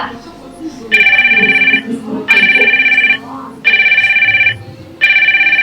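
A telephone rings in four repeated electronic bursts, loud and close, with people talking underneath between and during the rings.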